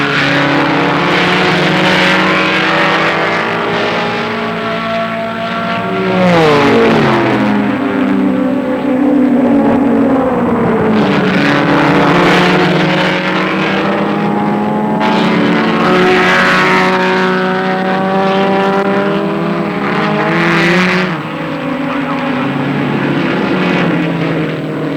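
Alfa Romeo and Datsun roadster race cars howling past at Daytona in 1969, engines rising and falling in pitch as they pass close and loud, one after another.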